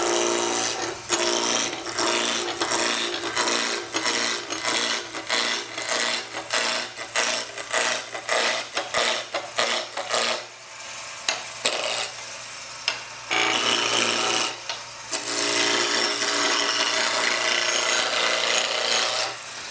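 A wood lathe chisel cuts a spinning peppermill blank between centers, a loud rough rasping scrape pulsing in quick repeated strokes over a steady motor hum, pausing briefly midway before resuming.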